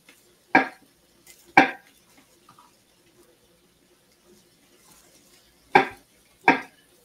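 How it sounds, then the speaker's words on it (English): Garlic being chopped with a knife on a Blackstone electric griddle cooktop: four crisp, isolated impacts in two pairs separated by a quiet pause, close and clear against a near-silent background. "Just chopping up some garlic."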